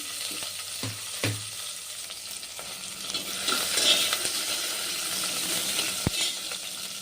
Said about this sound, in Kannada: ಫಸ್ಟು ಈರುಳ್ಳಿ ಹಾಕ್ಕೊಂಡು ಒಂದು ಸ್ವಲ್ಪ ಹೊತ್ತು ಫ್ರೈ ಮಾಡಬೇಕು